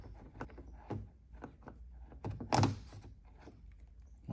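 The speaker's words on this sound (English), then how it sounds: "work your door handle out slowly." A BMW exterior door handle is worked slowly out of the car door, giving a sequence of quiet plastic clicks, taps and rattles, with one louder scraping thunk midway.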